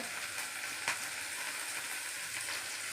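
Shallots, tomato, curry leaves and mint sauté in hot oil for an intestine curry, giving a steady, close crackling sizzle with one brief louder pop near the start and no voices.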